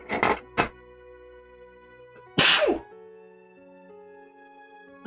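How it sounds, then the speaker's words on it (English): A single sharp sneeze bursts out near the microphone indoors during a relaxed miniature painting session, preceded by a couple of short vocal sounds and followed by quiet room tone. "I'm gonna sneeze"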